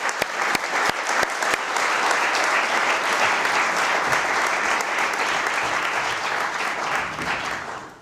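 A few sharp individual claps start off at a conference session, then swell into sustained, full applause from a crowd that holds steady before fading at the close.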